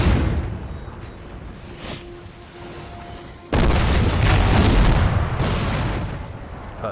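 Musket and cannon fire booms in the Napoleon Total War video game, a quieter volley of shots giving way to a sudden loud, sustained barrage of gunfire and explosions.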